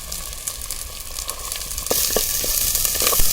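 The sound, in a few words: onions frying in sesame oil in a pan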